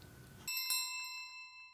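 A visitor's small, timid, oval, golden doorbell gives a double tinkle: two bright, ringing chimes in quick succession that sustain and fade on their own after a voice stops.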